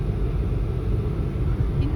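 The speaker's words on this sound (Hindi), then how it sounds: "इनका ट्रैफिक पता नहीं क्यों है दोनों साइड्स से।" A continuous low rumble of road traffic passes nearby on both sides of a street in India, steady and fairly loud throughout.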